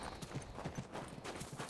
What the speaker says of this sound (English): You could hear the footsteps.